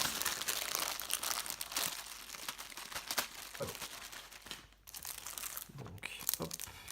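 Plastic packaging crinkles and tears as a Topps Star Wars trading card binder is unboxed, close rustling and crumpling that continues throughout with a few sharper crackles.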